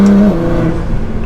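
Nissan GT-R R35 engine under light throttle in third gear, a steady close droning hum with a strong low tone that eases slightly after a moment, with no voices.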